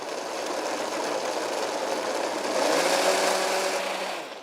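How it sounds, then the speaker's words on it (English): A blender whirs steadily, mixing a thick homemade chocolate nut spread, a continuous motor drone that rises slightly in pitch partway through before winding down at the end. "give it another whiz in the blender, but less this time"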